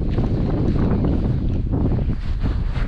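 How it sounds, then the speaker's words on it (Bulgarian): Strong wind roars and buffets the microphone steadily on a lake during cold, snowy kayak fishing, a loud continuous rush with no voices. "Излезна още по-силен вятър."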